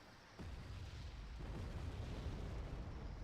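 A napalm bomber strike in the Wargame Red Dragon video game: a sudden deep blast that settles into a sustained, rolling low rumble lasting a few seconds.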